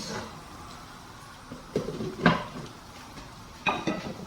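Lid clanking onto a pot of rice porridge (lugaw) in a kitchen, a few sharp metallic knocks and a rattle over a quiet background, with no voices.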